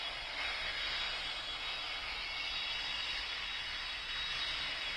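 Boeing 747 jet engines whine and roar steadily while the airliner taxis in the video game PTFS, a constant loud high-pitched turbine drone with little variation and no talking.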